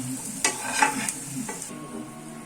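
Onions softened in a hot pan are stirred and scooped out, giving a steady sizzle of frying broken by a few sharp scrapes and clicks of a utensil against the pan, close and with no voices.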